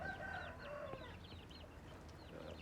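Chickens clucking and calling softly in the distance over a steady background hum, with a few overlapping bird-like notes.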